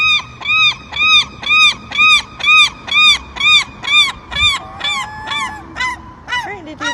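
A seagull calls close by in a long run of loud, evenly spaced honking cries, about a dozen in a row, then trails off into a few looser, ragged calls.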